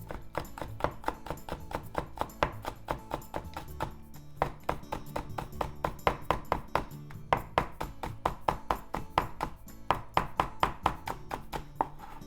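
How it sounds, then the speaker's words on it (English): A knife slicing thin pieces on a cutting board, a quick, steady run of sharp close taps with a brief pause midway, heard alone. "let's just make thin slices"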